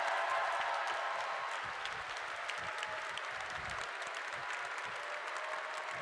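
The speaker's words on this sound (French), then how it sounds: "Je vous demande d'applaudir Pascal Defline" Sustained, dense applause from a large audience at a graduation commencement ceremony, steady and fairly loud for the full length with no speech over it.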